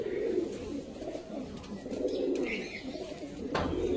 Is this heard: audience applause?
no